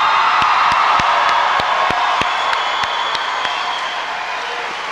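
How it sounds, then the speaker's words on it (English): Audience at a high school graduation ceremony applauds and cheers, a broad crowd roar with scattered whoops and sharp claps, strong at first and easing slightly toward the end. "Let's give these students a round of applause."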